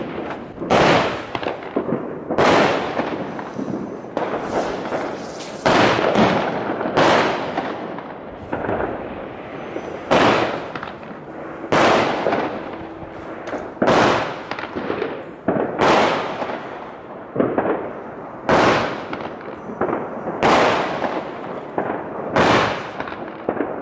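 A Crazy Square fireworks cake fires on New Year's Eve in Delft, a long series of loud, sharp bursts and cracking explosions repeating every second or two, close and unbroken by voices.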